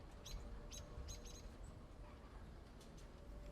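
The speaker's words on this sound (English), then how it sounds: "The moment the bluebird ascended into its master's field of vision, it made its high-pitched call" A bluebird gives short, high-pitched chirps, several quick clustered calls early on and fainter ones later, over a low steady background hum.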